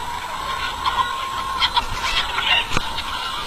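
A flock of pasture-raised chickens on an open farm, scattered clucks and short calls over a steady busy background, moderately near and without speech.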